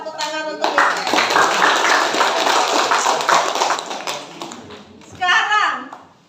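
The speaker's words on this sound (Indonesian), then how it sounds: "tepuk tangan untuk Michelle" A classroom of students claps for a classmate, a loud burst of many hands lasting several seconds before fading, then a second short round, with children's voices and chatter around it.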